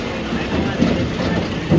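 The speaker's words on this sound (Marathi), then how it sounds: "हे बघा ट्रॅक्टर आला." A tractor's engine rumbles loud and close in a brief, continuous low drone with rattling, heard during a ride.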